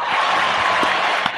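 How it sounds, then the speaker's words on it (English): A short burst of applause used as a sound effect on an aviation podcast, a dense steady patter of clapping held at a constant level, brief and fairly loud. "Here, applause."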